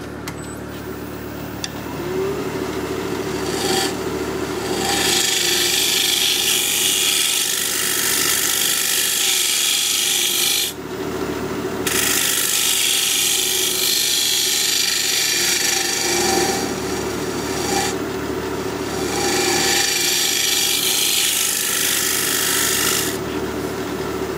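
A scraper rasps against a spinning cherry burl bowl on a wood lathe in long continuous passes, broken by brief pauses, close and loud with no talking.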